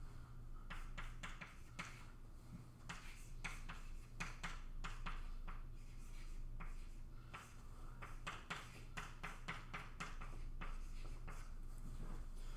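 A pen or marker writes out chemistry notes on a board in quiet, irregular strokes and taps, in short bursts with brief pauses and no talking.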